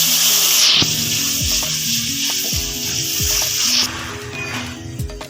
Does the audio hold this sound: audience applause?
no